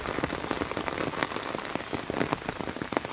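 Downpour over a village, steady dense patter of heavy drops striking nearby surfaces, loud and unbroken with no voices.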